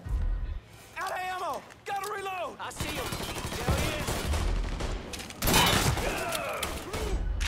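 Gunfire in Mafia 3 on PS4: bursts of shots crack over continuous game music and shouted voices, with some rapid, dense volleys near the end.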